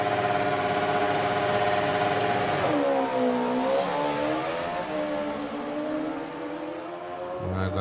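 At a drag strip, a Kawasaki motorcycle runs alongside a car in a loud, continuous engine roar that climbs and drops in pitch through gear changes, with a shift in sound as the vehicles pass.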